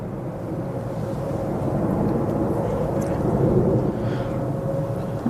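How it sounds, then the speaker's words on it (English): A British Airways A320 arriving at Manchester Airport gives a steady, distant jet rumble. The broad roar swells slightly in the middle, with a faint whine held above it, and no voice is heard. "next arrival will be the British Airways A320 from Heathrow"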